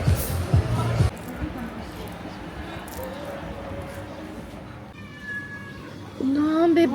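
Cats meow a few times on a street during a shopping outing in Kata, Phuket, Thailand. The meows are fairly close and short, with outdoor noise and crowd chatter behind them.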